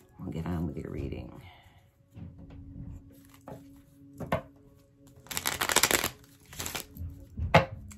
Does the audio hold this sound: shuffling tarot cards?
yes